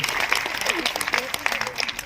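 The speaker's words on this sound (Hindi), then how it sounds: "और बहुत तालियां आप सबकी तरफ से हो जाए आशा जी के लिए।" Applause from an audience at a state teachers' award ceremony, a steady patter of many hands clapping for about two seconds, with a voice briefly audible underneath.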